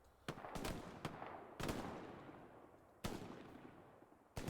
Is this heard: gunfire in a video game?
yes